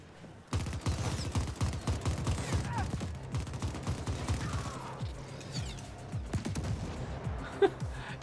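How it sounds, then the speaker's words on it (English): Smart missiles and gunfire in the video game The Ascent fire at the player in quick, irregular bursts of sharp blasts and crackling impacts, steady and moderately loud over several seconds. "Dodging those weird smart missiles is kind of crazy and fun"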